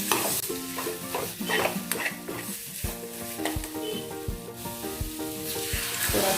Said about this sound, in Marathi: छान मिक्स करून घेऊ